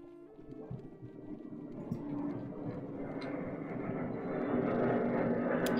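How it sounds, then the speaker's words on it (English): A real airplane passes overhead in the background, a low, broad rumble that swells steadily louder over a few seconds while a quiet game soundtrack plays. "And that is an airplane in the background, if you can hear it"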